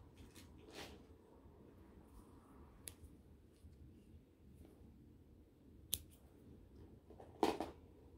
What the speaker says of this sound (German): schneide den Faden ab